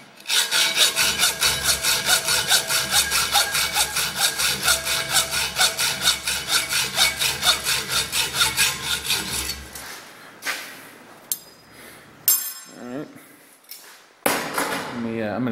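A piece being sawn off to length, with about ten seconds of fast, steady back-and-forth saw strokes close up, then a pause and a few loose clatters and knocks as the cut piece is handled.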